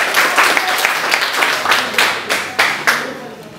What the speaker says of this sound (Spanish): ¡Aplausos, chicos!